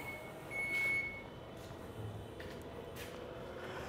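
A 2021 Chrysler Pacifica power liftgate closes with a Yakima StageTwo bike rack mounted, a faint high warning beep sounding once over a quiet low hum, followed by a few soft clicks, no voices.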